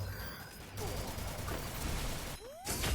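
Gunfire in the battle-royale video game Free Fire, a busy burst of shots and impacts packed over a low rumble with a brief swooping effect near the end, loud and close.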